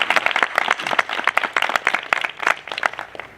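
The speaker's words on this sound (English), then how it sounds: "So round of applause again for those people." Applause from an audience at an outdoor Arbor Day tree-planting celebration, a dense patter of many hands clapping steadily at close range for a few seconds, fairly loud with no talk over it.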